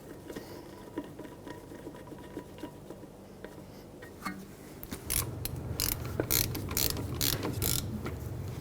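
A ratchet clicks rapidly in bursts while a bolt is tightened through a brake hose fitting on a 2009–2011 Ford F-150 rear brake caliper, preceded by quieter metallic handling and a few light taps.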